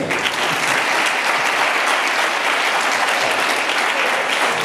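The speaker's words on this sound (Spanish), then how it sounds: "un aplauso también para Antonio" Audience at a live concert in Cartagena gives a round of applause, dense sustained clapping from a sizeable crowd, loud and even throughout with no voices standing out.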